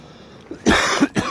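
A man coughs a couple of times close by in Port Sunlight Village, sharp rough bursts after a brief quiet moment.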